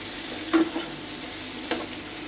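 Hilsa fish curry with winter vegetables stirred in a pan, with a soft steady sizzle and two brief scrapes of a spoon against the pan, quiet and close, no voices.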